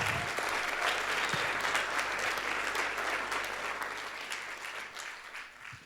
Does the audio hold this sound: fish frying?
no